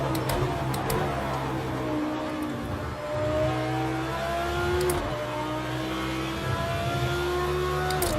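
Audi R8 LMS race car in Project Cars 2 at Le Mans, its engine note rising and falling through repeated re-acceleration, with rising harmonic sweeps over a steady loud drone and no voices.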